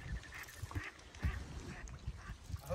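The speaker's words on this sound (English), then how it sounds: "I see some ducks there." Ducks quack in scattered calls on a lake during a solo paddle in a Northstar Northwind canoe, faint and somewhat distant over low water and wind noise.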